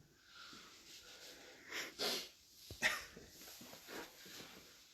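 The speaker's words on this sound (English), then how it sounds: "Now the dog wants to get involved" An indoor dog gives two short, sharp barks or huffs a moment apart. Softer sniffing and wheezy breaths surround them against a quiet room background.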